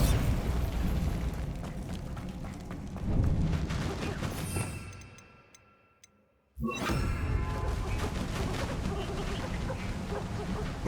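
A Bombardo explosion spell goes off in Hogwarts Legacy: a sustained, loud blast and rumble that fades into near silence for about a second, then a sharp burst of noise returning at full strength.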